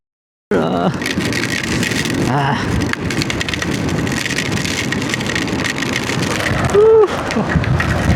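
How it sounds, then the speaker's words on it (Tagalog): Steady rain hisses loudly over a running vehicle engine, with traffic droning continuously and a brief tonal sound near the end. "Umuulan na."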